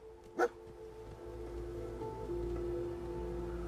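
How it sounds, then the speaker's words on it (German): One short dog bark sounds early in a Fallout 4 game scene, standing out over a low, steady in-game ambience with faint tonal hum, and nothing else follows. "Ich hab'n Hund. Bist du Dogmeat?"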